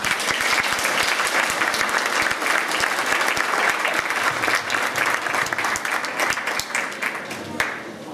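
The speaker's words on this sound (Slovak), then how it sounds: "poprosím veľký potlesk pre žiakov výtvarného odboru" Enthusiastic applause for art-department students at a school arts concert, dense continuous clapping from a large audience in a hall, sustained throughout with slight tapering near the end.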